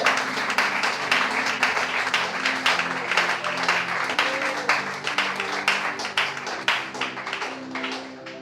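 A church congregation breaks into loud, sustained applause during a sermon, dense clapping filling the room for several seconds before it gradually thins out toward the end.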